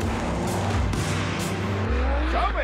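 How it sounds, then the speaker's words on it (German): A 671 hp tuned VW bus wheels through a fast lane change on a handling course, its engine roaring loudly and steadily while the inner wheel spins, with a rising whine and a faint tire squeal near the end. "Das kurveninnere Rad dreht auch durch, bis dann der Allrad einsetzt."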